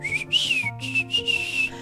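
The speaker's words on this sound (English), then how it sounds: "Tonk whistles confidently." A small robot droid gives a quick run of chirpy, sliding electronic whistles, close and clear, in several short bursts with no talking.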